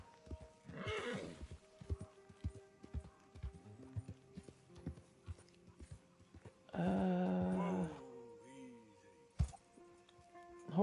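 A horse in the video game Red Dead Redemption II snorts and lets out a loud whinny partway through, with scattered hoof clops and small tack and movement noises around it, the neigh standing out clearly over quiet background.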